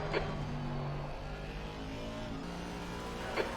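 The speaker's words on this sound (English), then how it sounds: "the Porsche is creeping in on Richardson and might be going for an overtake here" Race car engines in a sim-racing game endurance race, a Porsche closing on a rival for an overtake, hold a steady drone throughout with short louder bursts near the start and end, with no talk.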